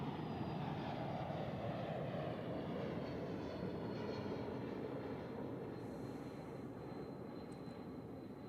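An airliner lands at Zurich Airport, a steady broad roar of jet engines that sounds fairly distant and fades slightly toward the end.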